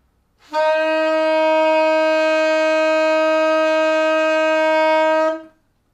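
A single sustained wind-instrument note, a C, holds steady for about five seconds, clear and pure, then stops cleanly.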